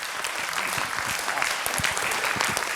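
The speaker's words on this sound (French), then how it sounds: "On vous applaudit" Applause from a conference audience at a trade association congress, sustained and even clapping from many people in a large hall, steady in volume from start to finish.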